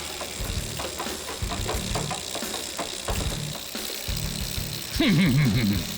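A motorbike engine in an animated series idles with a lumpy, pulsing chug, close and steady, ending in a brief warbling tone.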